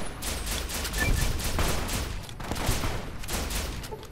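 Rapid gunfire in the video game Fallout New Vegas, a dense run of overlapping shots that barely pauses across the whole stretch, steady and fairly loud with no talk over it.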